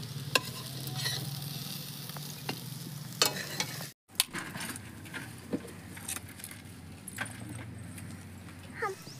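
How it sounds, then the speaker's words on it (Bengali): Bitter gourd (karela) fritters frying in hot oil give a steady close sizzle, with sharp clinks and stirring scrapes now and then and a brief dropout midway. "আর একবার ভাজা বসাইছি।"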